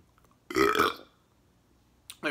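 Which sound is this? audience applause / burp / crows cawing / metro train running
burp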